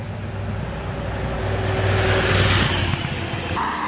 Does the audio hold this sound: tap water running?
no